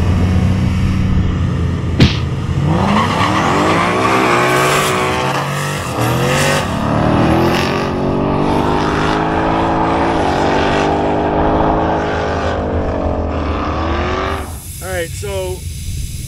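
A twin-turbo Ford Crown Victoria with a junkyard engine roars at a drag strip, its engine note rising and falling in long revving sweeps as the tires spin, then fading near the end, with a voice talking over it.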